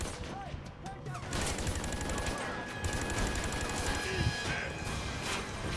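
Rapid machine gun turret fire in the shooter game Army of Two: The 40th Day, a dense continuous rattle of gunfire that starts a second in and holds steady, with faint game effects underneath.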